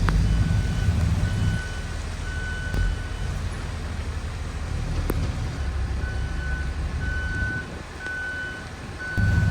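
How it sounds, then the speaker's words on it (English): A truck reverses near a building at a boathouse demolition site, its backup alarm beeping in a steady, evenly spaced series over a low engine rumble and site noise. "I told them I was going to have them back up the truck to the building."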